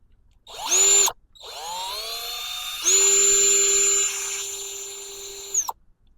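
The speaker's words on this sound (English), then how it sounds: "Drill." Cordless power drill run in two bursts while working on servo and flap linkage in an A-1 Skyraider model aircraft: a short high-pitched whine, a pause, then a longer sustained whir that spins up in pitch and cuts off sharply. No talking.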